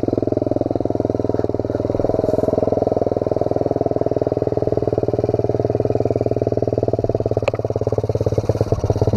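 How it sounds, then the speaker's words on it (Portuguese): A Pro Tork TR100F mini motorcycle engine runs steadily and loudly up close as it climbs a rough, uneven trail, holding a constant droning hum with slight rises in revs throughout. "Eu vou subir a moto dele, depois eu volto e subo com a minha."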